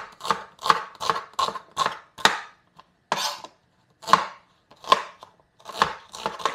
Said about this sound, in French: On va partir pour émincer les oignons.